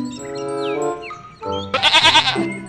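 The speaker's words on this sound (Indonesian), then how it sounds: "ternyata ini hewan kambing." A goat with curved horns lets out loud, close bleats, a drawn-out cry followed by a harsher, quavering one.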